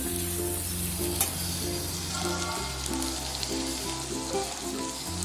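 Boiled cluster bean pieces stirred into a sizzling tempering in a pan, a continuous crackling fry with stirring clicks and a low background hum.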